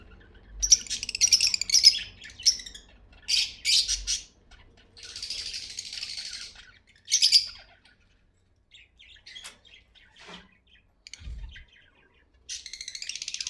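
A blue pastel splitino lovebird breeder pair gives sharp, close chirps and squawks in irregular bursts, separated by short silent gaps.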